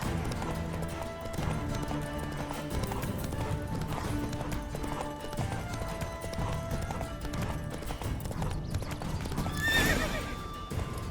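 A horse in The Witcher 3 video game trots with steady hoof clip-clops, then lets out a loud neigh near the end, layered over game music.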